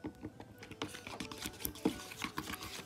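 Slime mixture being stirred, a quiet, close, wet patter of soft squelches and clicks in quick irregular succession.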